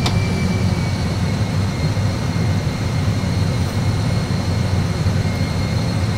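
Aircraft engines at climb thrust produce a constant, loud, broadband roar heard from the cockpit, a smooth unbroken drone with a faint steady whine above it and no talking.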